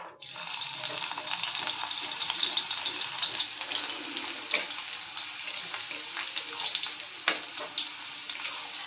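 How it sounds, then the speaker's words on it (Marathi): Garlic fries in hot oil in a pan, a soft steady crackling sizzle with occasional louder pops and stirring scrapes, faint and continuous, with a voice speaking over it at times. "तेल आता गरम झालंय त्याच्यामध्ये मी लसूण ऍड करते"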